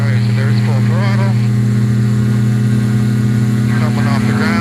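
Light aircraft engine running at full throttle on the runway at Woodstock, a steady loud droning hum that holds constant throughout, with a faint voice over the radio or intercom in the background.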